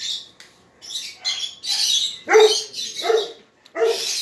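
Several sharp, yappy barks in quick bursts, fairly close, mixed with high squawking calls between them; no talking.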